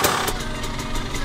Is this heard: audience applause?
no